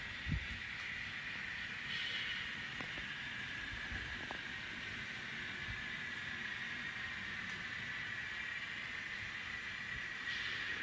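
Faint, steady rolling hum of model trains running on a layout track, with occasional light clicks and a high hiss throughout.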